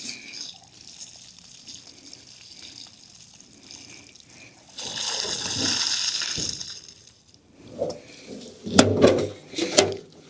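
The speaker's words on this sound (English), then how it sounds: "I might go ahead and give it one more flush here." Liquid sloshes and splashes through a rusty Chevrolet LUV fuel tank being flushed, a sustained rushing gush midway followed by clanks and sharp spatters, close and alone.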